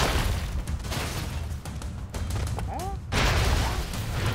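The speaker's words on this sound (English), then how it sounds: "It's actually really easy to die in this game, mainly because of all the freaking explosions that can go off." Rapid bursts of gunfire and booming explosions in the chaotic 2D action game Broforce crowd together in loud, dense volleys with a short lull in the middle, while a player talks over the din.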